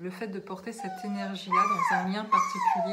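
A dog whimpers and yips in high, rising whines that grow louder in the second half, heard close and mixed with someone speaking French throughout.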